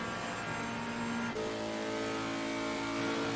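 Race cars circle Paul Ricard in Assetto Corsa Competizione, giving off a continuous droning engine roar that shifts pitch partway through as a car accelerates out of a right-hand corner onto the straight, with no voices.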